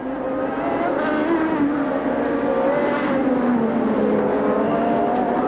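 A 1988 Formula 1 car at the German Grand Prix holding full throttle, its engine a loud, sustained high-pitched wail with slowly shifting pitch as it streaks along the circuit.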